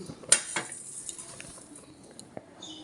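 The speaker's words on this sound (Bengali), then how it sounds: "কড়াইটার মধ্যে একটু পরিষ্কার করে আমি ওর মধ্যে দিয়ে দেব তেল।" A metal wok being scraped and wiped clean before oil goes in, a few sharp metallic clinks and scrapes, the loudest early, then soft scattered scraping.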